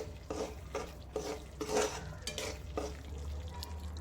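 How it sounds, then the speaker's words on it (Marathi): Quiet, rhythmic stirring of a thick spice masala frying in oil in a pan, several scraping strokes over a soft frying sizzle, close up and without talk. "छान तेल सुटेपर्यंत व्यवस्थित आपली फोडणी भाजून घेऊयात."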